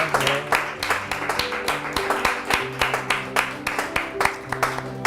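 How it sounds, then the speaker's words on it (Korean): A church congregation claps together at the close of a Sunday worship service, producing a steady rhythmic run of sharp, fairly loud claps over faint background tones. "우리 하나님께 영광의 박수 올려드리겠습니다"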